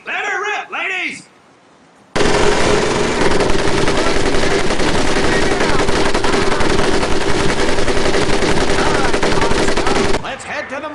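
Sustained machine gun fire in Medal of Honor Pacific Assault, a loud continuous rattling burst lasting several seconds, preceded by a brief spoken line and followed by a short trailing voice.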